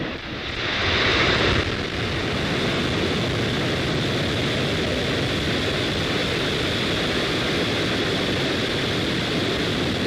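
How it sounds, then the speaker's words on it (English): A SpaceX Falcon 9 rocket lifts off with a dense, continuous roar that swells at ignition and holds steady and powerful throughout. "Ignition and liftoff."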